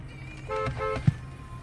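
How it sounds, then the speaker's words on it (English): A short car horn toot sounds from a driver's car in traffic, a brief tonal blast of under half a second, close by over light road noise. "had to give him a little toot"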